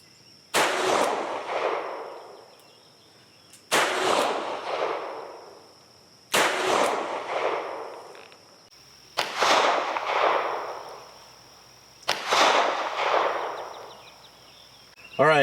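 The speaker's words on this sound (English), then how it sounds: "5 shots, double action, 15 yards," A Taurus 605 snub-nosed revolver fires five double-action shots at a target 15 yards away. Each shot is a loud, sharp crack with a ringing tail, spaced about three seconds apart in a slow, steady rhythm.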